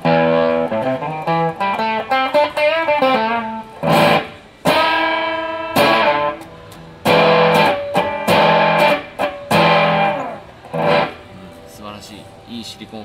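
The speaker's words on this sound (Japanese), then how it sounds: "ここまで見ると完全にシリコン音ですね。" Electric guitar run through a FUZZ GOD II fuzz pedal, a thick silicon fuzz tone with buzzing harmonics, played as loud chords and choppy bursts with brief gaps and noise between strums.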